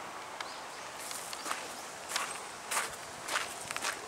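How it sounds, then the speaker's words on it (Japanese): Footsteps crunch along a path at the burial mound of Emperor Ojin, a huge keyhole-shaped tomb, in a steady walking rhythm under a constant wash of wind noise. "ここからちょっと歩いていきましょうかね"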